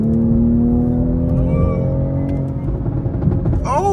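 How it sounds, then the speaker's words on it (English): A Toyota Supra driving, its engine humming close and steady with a slowly rising pitch, and a voice breaking in near the end. "Lucky, let me drive this shit back"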